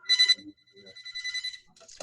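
Telephone ringing during a spring district conference, a short electronic ringtone with a quick burst of trilling tones followed by a sustained warbling ring, close and clear, with no one talking over it.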